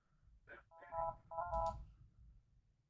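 An electronic desk phone rings with two short warbling tone bursts in a quiet room, close by, with a faint voice briefly underneath.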